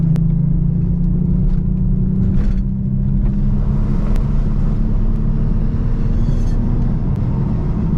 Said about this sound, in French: Ah, le bruit de la voiture en fait c'est vraiment incroyable.